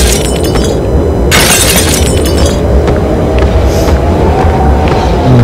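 Glass shattering in the video game Train Station Renovation: a loud, bright crash of breaking glass with scattered tinkling shards, set over a steady low background rumble.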